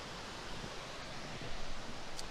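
Eugenia Falls waterfall in Central Ontario gives a constant, broad rushing hiss with no breaks, fairly soft and distant, and no voices over it.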